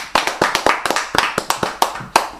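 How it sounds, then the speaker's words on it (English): Church congregation clapping during praise worship, a close, loud rhythmic series of sharp hand claps with a few uneven, scattered beats across a couple of seconds. "Clap for Jesus."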